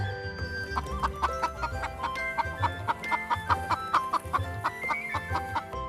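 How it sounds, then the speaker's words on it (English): A hen clucks repeatedly in a quick, rhythmic series of close, clear calls over a faint background. "H for hen."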